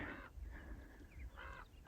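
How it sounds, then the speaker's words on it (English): Birds flocking around snow on a desert hiking trail near Las Vegas give two faint, harsh crow-like caws, spaced apart against a quiet outdoor background. "Oh, there's so many birds"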